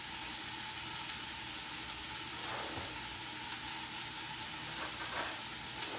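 Achari bhindi, okra in a spiced pickling masala, sizzles steadily in a half-covered pan over medium heat, a continuous close frying hiss with a few brief louder spits and stirring touches, no talking.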